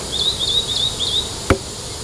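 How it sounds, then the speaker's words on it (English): Honey bees buzz around a Flow Hive up close in a steady, high hum, and a single sharp knock cuts in near the end. "this thing is just slam full of bees"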